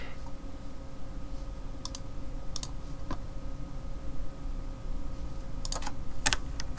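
Quiet computer keyboard typing while editing code for a Notepad-style program in Delphi: a few sparse, soft key clicks spaced irregularly over a steady low background hum, with no talking.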